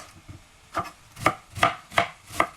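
Knife chopping cabbage on a cutting board for vegetable soup, five or six crisp, evenly spaced thuds in a steady rhythm, close and clear with no talk.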